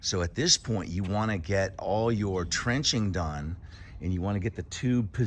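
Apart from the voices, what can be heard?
None of the usual background noises is heard.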